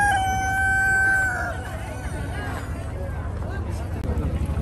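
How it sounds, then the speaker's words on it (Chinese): Roosters and hens at a rural live poultry market in Qingdao, with a loud crow up close followed by clucking and fowl noise amid crowd babble. "今天小编就带你去逛一下青岛农村大集的活禽市场"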